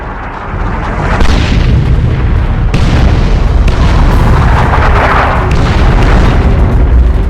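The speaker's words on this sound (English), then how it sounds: "Launch barrage! Artillery! Clear the area!" Artillery barrage in Warhammer 40,000: Chaos Rising, a dense, continuous rumble of heavy booms and explosions rolling on for several seconds, loud and sustained with overlapping blasts and no voices.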